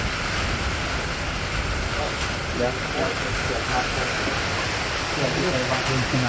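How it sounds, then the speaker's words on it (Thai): Rain falls in a dense, steady hiss, with voices talking over it. "สายฝน"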